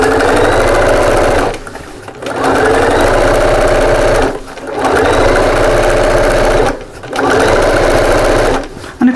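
A home sewing machine, its table removed, runs in three long, loud bursts of rapid whirring stitches through fabric, with short pauses between each run.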